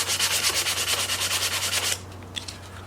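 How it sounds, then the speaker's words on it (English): Hand sanding of a taillight housing with folded sandpaper: quick rhythmic scratching strokes up close for about two seconds, then stopping, leaving a low hum and a few small taps. "Start sanding."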